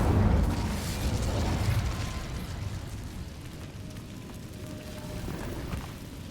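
Incendio fire spell cast in a Hogwarts video game inside an abandoned cave, a loud whooshing burst of flame at the start that decays into a rumbling, crackling tail.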